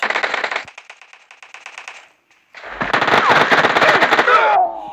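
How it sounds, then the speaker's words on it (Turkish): Rapid bursts of Uzi submachine gun fire ring out in a video game, a short volley followed by a pause, then a longer loud rattling burst with metallic casing clinks at the end. "nasıl Uzi ile vuruyorum Uzi ile"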